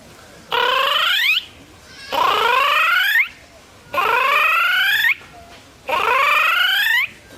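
A voice imitates the haludiya bird call in four separate bursts of about a second each, spaced evenly. Each burst is a rapid, bright warbling whistle that sweeps upward and sits close and loud against silence.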